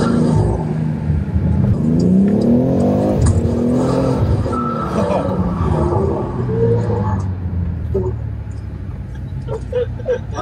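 A car accelerating with its engine revving hard, rising and falling pitch sweeps of a loud close engine, with people talking over it.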